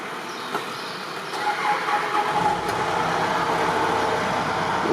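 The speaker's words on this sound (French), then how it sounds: "on va prendre le télescopique. Je vais me mettre le coup de batterie juste avant. Donc là il va démarrer" Telehandler on a farm, its engine starting after a battery boost, with a low rumble that settles into a steady diesel idle under a constant background hum.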